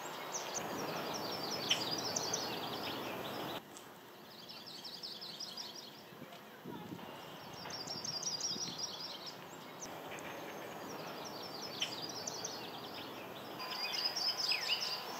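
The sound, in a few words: warbler song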